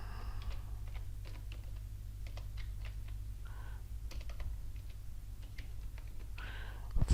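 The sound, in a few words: typing on a computer keyboard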